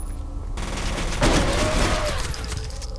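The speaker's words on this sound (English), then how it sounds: "Shotgun." A shotgun blast in the video game F.E.A.R., a single loud broadband burst followed by a brief rumbling tail, set within a busy game soundscape.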